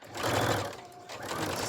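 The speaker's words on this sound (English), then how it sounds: "So we'll come back to the sewing machine there." A sewing machine stitches a quilt block seam, its motor whirring in a short, close burst that dips briefly in the middle and picks up again, with no talking over it.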